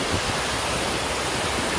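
Heavy water pouring over O'Shaughnessy Dam into the valley below in Yosemite, a loud, dense, unbroken roar of rushing water with no other sounds.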